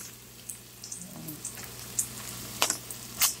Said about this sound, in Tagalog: Gisa na ang giniling.